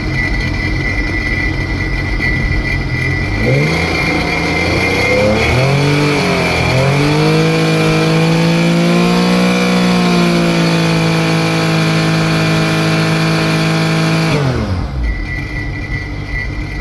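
A Sea-Doo RXT personal watercraft engine, suffering oil pressure trouble, runs close by at idle, then revs up and holds a higher pitch for several seconds before dropping back down.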